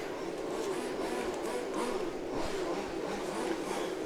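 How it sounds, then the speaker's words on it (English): Formula One RC model cars warm up at an EFRA LSTC European championship finals day, a steady, distant buzzing whine of small motors carrying through the whole stretch without pause. "You can hear the semi-final A of the Formula One cars warming up."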